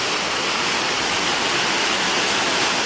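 Sangardak waterfall in the Sariosiyo district of Surxondaryo, Uzbekistan, roars steadily and loudly throughout, a dense unbroken rush of falling water with no voices.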